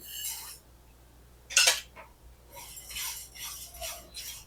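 Roasted sesame seeds are scooped out of a pan with bright metallic scrapes and clinks of a spoon against the pan, coming in short close bursts with one sharper knock in the middle.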